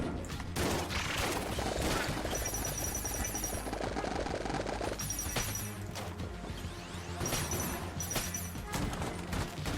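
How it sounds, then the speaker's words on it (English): Gun blasts from a weapon in the roguelike shooter Enter the Gungeon, several sharp, crashing shots with ringing tails, loud against a busy background of game music and effects. "hold it, you can pop the shot off to just do a lot of damage to a single enemy"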